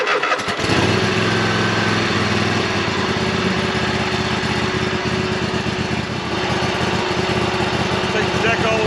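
A Bad Boy zero-turn lawn mower engine running close by with a loud, steady drone after starting up, a voice faintly present underneath.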